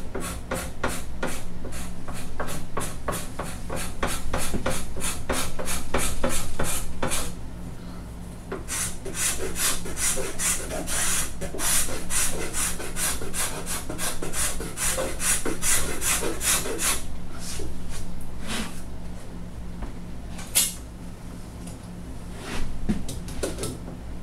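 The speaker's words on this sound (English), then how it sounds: "You have to scrape in a directionally, being sensitive to which direction the wood wants to be scraped in." A rasp and scraper work a wooden guitar neck with repeated rhythmic strokes. The dry rasping scrapes are close and steady, about one or two per second, and come in bursts with short pauses between them.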